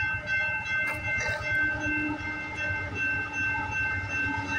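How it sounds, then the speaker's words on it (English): A CPKC freight train rolls past at Guelph Line, its steady low engine rumble and rhythmic clickety-clack of wagons continuous and close, with no voices. "Gonna get a clear shot of the train."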